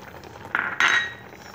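Sama rice kheer is stirred in a pot, with a spoon scraping and clinking against the metal in two brief strokes near the mic.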